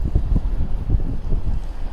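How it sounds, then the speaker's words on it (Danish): Strong wind buffets the microphone while sailing on Roskilde Fjord in shallow water, producing loud, low, gusting rumbles that surge and fade continuously with no talking. "og vinden har godt nok taget til"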